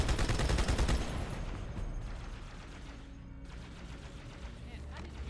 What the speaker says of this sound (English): I hear them shooting.